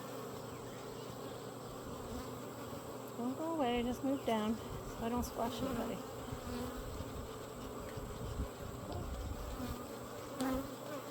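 A dense, steady buzz of many honeybees at close range, with a person speaking softly over the swarm's drone.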